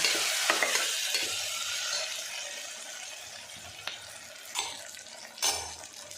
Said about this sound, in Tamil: தக்காளி பேஸ்ட் கொஞ்சம் அதை போட்டு நல்லா வதக்கலாம்